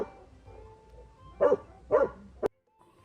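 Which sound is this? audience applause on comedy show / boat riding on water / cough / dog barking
dog barking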